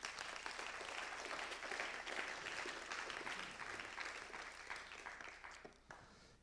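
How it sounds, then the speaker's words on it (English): An audience claps steadily for several seconds, a dense wash of applause that thins out and fades near the end. "I think we can give a big applause to all of them."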